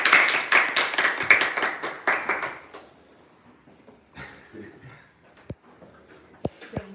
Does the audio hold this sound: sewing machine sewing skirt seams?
no